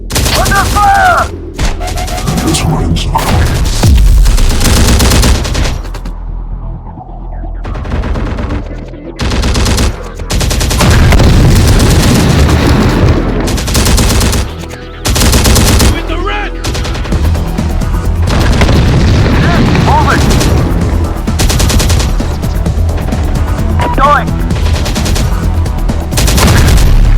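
Rapid automatic gunfire and heavy explosions from the video game Terminator Dark Fate Defiance, loud and nearly continuous across the whole stretch, with dense bursts, booms and brief lulls, and shouted voices at the start.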